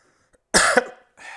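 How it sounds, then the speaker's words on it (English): A single harsh cough bursts out close to the microphone, followed a moment later by a softer throat sound. "I know I'm coughing a lot here."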